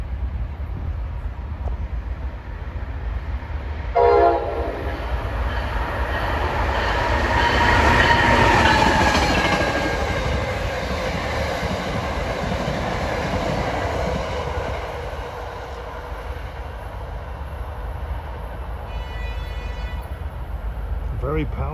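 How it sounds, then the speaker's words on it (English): A Philadelphia push-pull commuter train bound for Thorndale, led by an ACS-64 electric locomotive, passes close by with a loud sustained rumble and clatter of wheels on rails, building and swelling before easing off, with a voice heard briefly. "here comes train 9593, bound for Thorndale with push-pull equipment."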